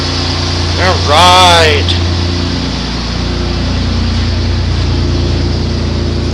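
A 1985 car's engine idles steadily after a cold start, a constant low hum throughout, with a voice speaking briefly over it near the start.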